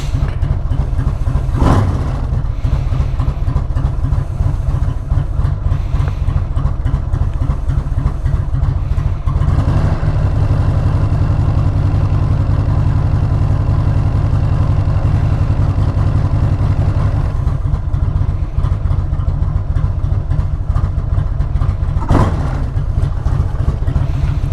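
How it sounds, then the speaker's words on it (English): A Harley-Davidson motorcycle engine idles at about 800 RPM with a steady, loud, low rumble that runs continuously, broken by a couple of brief blips in the throttle. "We've got a decent idle. We're at about 800 RPM"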